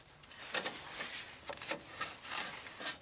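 Screws are driven in by hand while a Nelson livestock waterer is being installed, giving faint, close rubbing and scraping twists in short irregular strokes.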